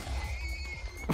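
A video game horse whinnies with a high, wavering neigh over low thumping and background noise, brief and fairly close.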